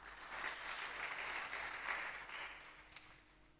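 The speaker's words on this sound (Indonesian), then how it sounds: "Tepuk tangan bagi Tuhan Yesus Kristus." A church congregation at a Pentecostal Sunday service claps for several seconds, a steady wash of many hands that swells and then tapers off, heard from a distance and fairly soft.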